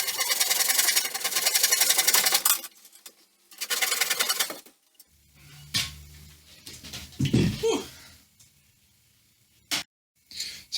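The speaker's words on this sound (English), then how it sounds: "put it across the bandsaw and cut it in half" A bandsaw rips a cleaned, thicknessed piece of wood down the middle for a coffin-shaped guitar body, with loud whining cutting bursts at the start, then quieter knocks, handling noises and a brief roar.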